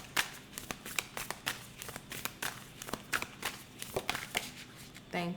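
Tarot cards shuffled and pulled from a deck, a close run of soft, irregular riffling slaps and flutters of card stock, fairly quiet, with a brief voice near the end.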